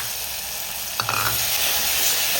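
Eggplant pieces hit hot oil in a pan while cooking millet rice kootanchoru, with a sudden burst of sizzling and stirring that settles into a steady close hiss and crackle, no voices.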